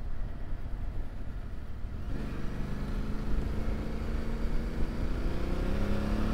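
A Yamaha Tenere 700 motorcycle with Nomad Sweden modifications rides along with a steady engine drone and wind rush, the engine note rising and settling into a firmer tone partway through, continuous and close with no talking.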